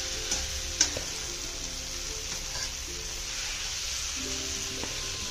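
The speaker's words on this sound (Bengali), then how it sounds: "এই দেখো শীতল চাটনিটা যে প্রায় ভাজা হয়ে গেছে, কি সুন্দর তেল ছেড়ে এসছে" Onion and chutney fry in oil in a pan, giving a steady, close sizzle that runs the whole time with a few light clicks and stirring knocks over it. No one speaks.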